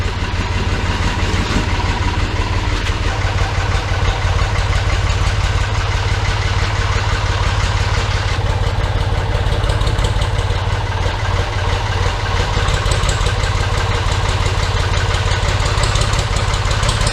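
Steady diesel engine of a loader tractor idling as its bucket is raised with boxes of vinyl records, a continuous low rumble with a faint knocking pulse, close and alone without talk.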